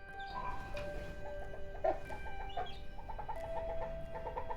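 A male quail calls repeatedly in a short, rhythmic series of bright notes against steady background hum. The calls are close and moderately loud, and no one speaks.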